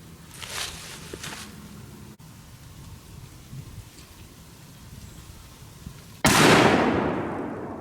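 A single loud .223 rifle shot with soft point ammunition cracks near the end and rings out in a decaying tail, after a stretch of outdoor rustling and wind noise.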